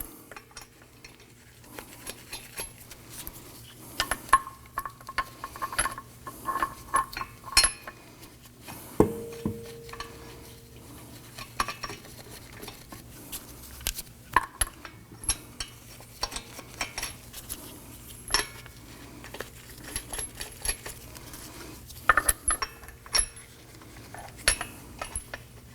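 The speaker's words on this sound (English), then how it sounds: "Let's go ahead and get all of our lug nuts started" Lug nuts are threaded by hand onto the wheel studs of a 2018-2024 Toyota Camry, with scattered light metallic clicks, clinks and jangles at close range and no talk.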